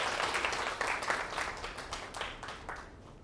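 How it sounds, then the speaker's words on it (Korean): Audience applause of thanks for a helper at a science lecture, a steady wash of many hands clapping at moderate volume with a few sharper claps, no voices. "우선은 수고해 주신 우리 안양 군에게 감사의 박수"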